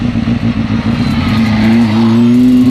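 Honda 600 Hornet motorcycle engine revving hard and accelerating in first gear, a loud, close, steadily climbing high-rpm howl heard alone.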